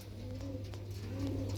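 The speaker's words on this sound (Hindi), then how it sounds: "ये जो नीचे 3 बड़े कबूतर हैं" Soft, low pigeon cooing repeats in a steady murmur over a constant low hum, with no voices.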